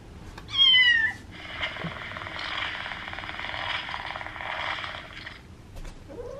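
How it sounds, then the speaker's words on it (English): A domestic cat gives a sharp, rising meow near the start, then a long steady whirring hum continues underneath, quiet and close indoors. "See, Boo is a very good daddy to the kittens"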